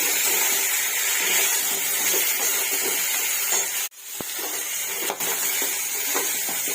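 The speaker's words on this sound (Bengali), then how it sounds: "পুঁটি মাছগুলো ভাজা হয়ে গেছে এবার চিংড়ি মাছগুলো ভাজব" Prawns frying in a pan after a batch of small puti fish, a steady close sizzle and hiss filling the whole stretch, briefly cut by a sharp interruption midway before the frying resumes.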